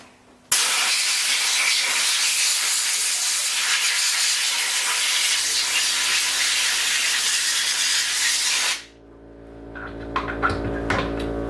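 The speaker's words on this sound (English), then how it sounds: "If you are using compressed air and it's moist air, make sure you've got a nice air dryer on that system." A close, loud blast of compressed air blows out engine parts during a piston and conrod rebuild, a steady harsh hiss that holds for several seconds, then cuts off, leaving faint clinks and a low rumble.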